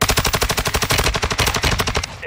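Rapid gunfire from the Tempus Razorback in the video game Warzone 2, a fast steady string of loud, close shots, roughly a dozen per second, cutting off near the end.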